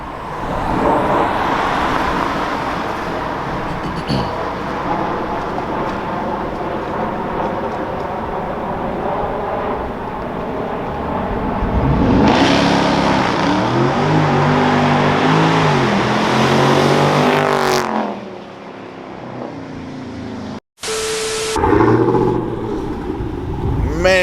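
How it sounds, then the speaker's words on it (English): A car approaches and passes on a road, its noise swelling to a loud broad rush and then falling away, with a brief louder burst near the end. "Got a car coming."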